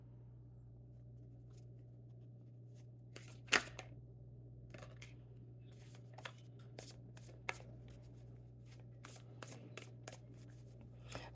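Tarot cards are shuffled by hand for a reading: soft riffles and sharp flicks come in bursts over a low steady hum, quiet and close, with no talking.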